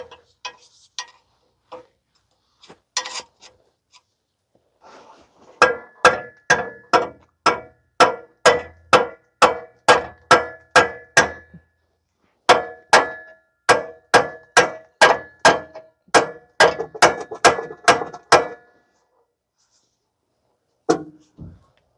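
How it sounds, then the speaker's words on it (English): Sharp metallic hammer strikes on exhaust muffler and resonator parts of a 2005 Toyota Corolla 1.8 ring out in steady rhythmic runs, loud and close, with a few scattered taps before and a pause midway. "Use a hammer to get it out."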